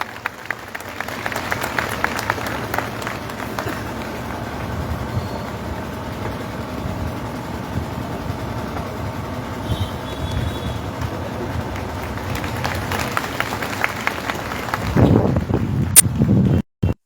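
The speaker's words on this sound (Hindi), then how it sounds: "जोरदार तालियों के साथ हम उनका स्वागत करें।" A large crowd at an open-air Christian gathering protesting attacks on churches applauds a bishop called to the stage. Clapping swells at the start, holds as a steady, wind-roughened wash, then surges again near the end.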